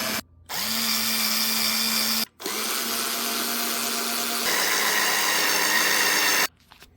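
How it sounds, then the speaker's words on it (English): A power drill drives screws into the mount of a PC monitor CRT being fitted into a Panasonic WV-CM1480: three loud, close whirring runs, each winding down as a screw seats, with no speech. "Just driving these screws down now, each corner."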